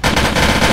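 Rapid automatic gunfire in the Roblox game Polybattle, a loud, steady stream of close shots that runs unbroken without pause.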